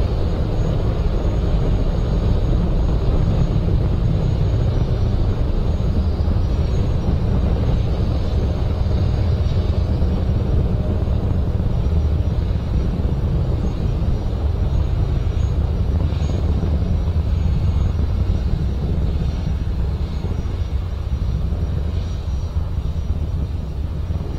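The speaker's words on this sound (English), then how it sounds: "We've launched from Space Launch Complex 40 at Cape Canaveral." A SpaceX Falcon 9 rocket launching from Space Launch Complex 40 at Cape Canaveral: a loud, continuous deep roar rumbles steadily from start to finish, heavy in the low end and unbroken by any voices.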